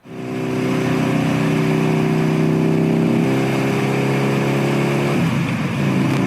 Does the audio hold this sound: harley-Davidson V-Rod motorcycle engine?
yes